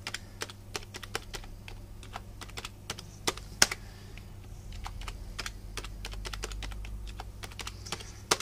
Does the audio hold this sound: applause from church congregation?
no